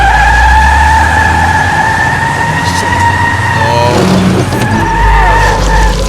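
A car skids with drawn-out tire squeal in the game The Wolf Among Us, loud and close alongside steady tonal engine or siren sounds, with a brief exclamation from a player.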